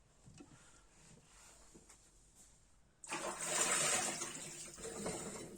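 Water rushes and splashes as cherries are washed, starting quietly and then jumping to a loud, steady gush from a tap, close by with no talking.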